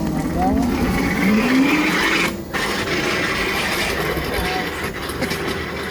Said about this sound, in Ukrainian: Електродрезина плавно зсувається з місця.